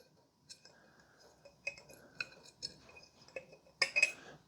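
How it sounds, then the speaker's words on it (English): A whisk set back into a Pansonite milk frother, scattered light clicks and small metallic clinks building to a sharper cluster of taps near the end, close and quiet, no speech. "Let's put the whisk back in."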